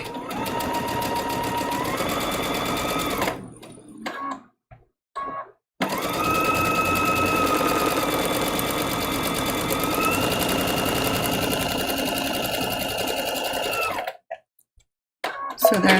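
A sewing machine hums fast and steady as it stitches a seam on a small foundation-pieced quilt block, with two pauses and short restarts between long runs.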